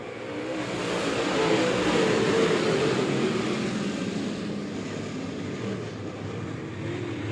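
B-Modified race cars accelerating together off the green flag at Monett Motor Speedway, a dense, loud engine roar that swells within the first seconds and holds as a broad, continuous rumble.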